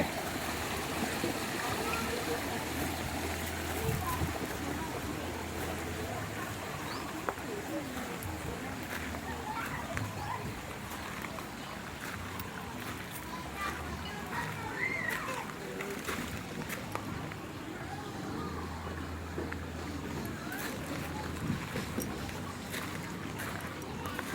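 Water splashes and rushes steadily from a waterfall inside a cemetery-themed cafe at a temple in Chonburi, Thailand, a constant wash of sound with a low hum running underneath.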